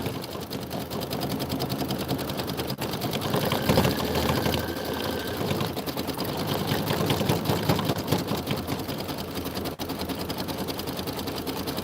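An embroidery sewing machine stitches snowflakes nonstop, a close, steady mechanical whir and rapid needle clatter with faint occasional clicks.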